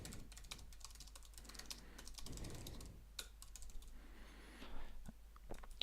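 Code being typed on a computer keyboard in a quiet room, a steady run of soft, close keystroke taps with brief pauses and a couple of louder key presses, over a low background hum.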